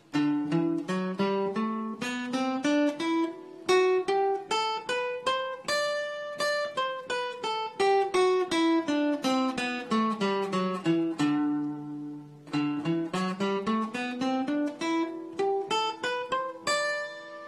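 A guitar plays a Mixolydian scale shape in single notes climbing up and back down, each plucked note ringing clearly at a steady pace.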